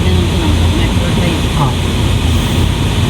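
A loud, steady engine roar like an airplane passing overhead fills the whole stretch, a broad rumbling wash with no pauses.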